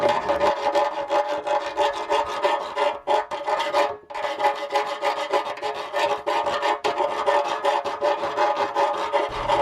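A drill bores a hole in an oil pan for a Z6 Turbo with a close, harsh, continuous grinding rasp, briefly stopping around the middle before resuming.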